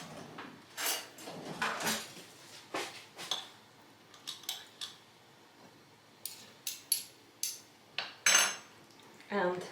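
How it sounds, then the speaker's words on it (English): A utensil stirs apple cider vinegar and mustard together in a dish, making quiet, close, intermittent metallic clinks and scrapes in uneven bursts. "Just give it a good mix"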